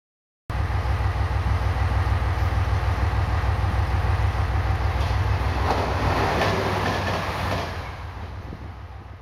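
An express train rushes through a station at speed with a loud, steady roar and rattling wheels, fading slightly toward the end.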